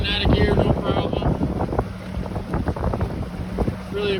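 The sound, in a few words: boat engine running with Holley Sniper marine EFI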